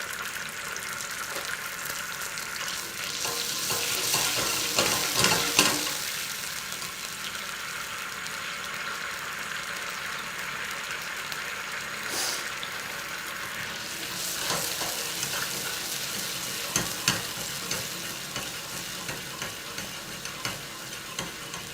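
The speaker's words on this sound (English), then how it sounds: "as it reduces, it will go more sticky, and then the bubbles become more and more intense" A sauce simmers and reduces in a pan, giving a steady close sizzling bubble with occasional stirring clatters and brief louder pops, no voices over it.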